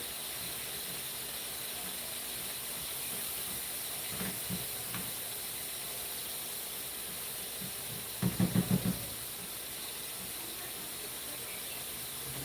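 Spinach leaves sauté in a pan with a steady, moderate sizzling hiss throughout, and a short burst of scraping or stirring noises comes near the end.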